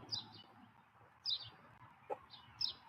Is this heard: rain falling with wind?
no